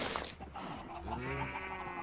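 A goat in a modded Minecraft game gives one drawn-out, wavering bleat that sustains for about two seconds at moderate level, with no speech over it.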